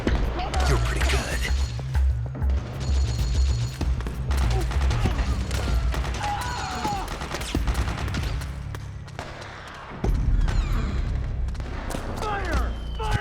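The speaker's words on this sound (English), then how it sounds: "Suppressing fire!" A sustained firefight in Metal Gear Solid 4 with suppressing gunfire: rapid bursts of shots, heavy booms and mechanical clatter pound on without pause, with a brief lull near the end before the firing resumes, and voices shout over it.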